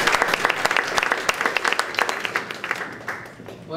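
An audience at a women's forum breaks into dense, sustained applause, many hands clapping together at close range, with a voice faintly audible beneath it.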